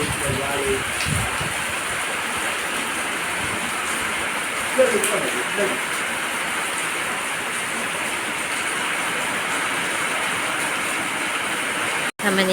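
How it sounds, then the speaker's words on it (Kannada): Steady rain falls outdoors around a house, a dense, even hiss that continues unbroken for the whole stretch, with no talking. "ಈಗ ಮಳೆ ನೋಡಿ ಚಳಿ ಆಗ್ತದ"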